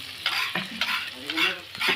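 Chicken rica rica in yellow spice paste being stirred and fried in a pan, with repeated scraping strokes and a steady sizzle, close and fairly loud, no talking.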